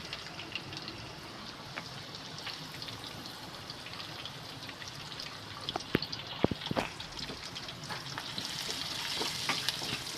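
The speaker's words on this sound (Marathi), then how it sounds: "लसूणला जास्त परतवायची नाही, तेलामध्ये जास्त लाल करायची नाही, हलकाच ब्राऊन कलर यायला पाहिजे" Garlic frying in oil in a home kitchen pan, a steady soft sizzle and crackle running throughout with a few louder clinks and stirring scrapes near the middle, no one talking.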